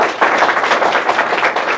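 An audience at a talk on job appointment letters applauds, a dense, steady burst of many hands clapping together, loud and close for under two seconds.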